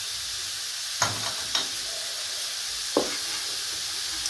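Turmeric dropped into a hot frying pan crackles with a steady, close sizzle, while a spoon scrapes and stirs in three distinct strokes; no voices.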